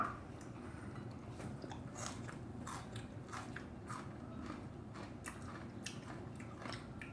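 Close, quiet chewing of steamed seafood eaten with vegetables, with repeated soft crunchy bites and wet mastication in an irregular rhythm and no talking.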